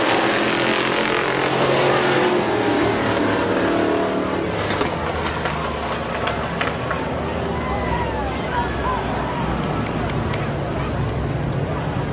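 Race cars roar around the oval at Midvale Speedway during a race, engines droning loudly and continuously with passing revs, under an announcer's steady commentary.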